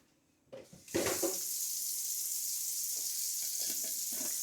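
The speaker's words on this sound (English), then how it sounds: "I'm going to take my pot and I'm going to fill it back up with hot water" Hot tap water at about 120 degrees rushes steadily into a pot, a continuous close hiss that starts after a short bump and keeps going at an even level to the end.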